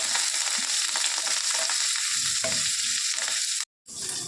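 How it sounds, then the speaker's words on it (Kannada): Mustard seeds, green chilies, curry leaves and onion fry in hot oil with a loud, steady crackling sizzle and soft stirring. It cuts off briefly near the end, then resumes. "ಸ್ವಲ್ಪ ಸಾಸಿವೆ, 2 ಹಸಿಮೆಣಸಿನ್ಕಾಯಿ, ಕರಿಬೇವು, ಈರುಳ್ಳಿ ಇದೆಲ್ಲ ಹಾಕ್ಕೊಂಡು ಸ್ವಲ್ಪ ಫ್ರೈ ಮಾಡಬೇಕು."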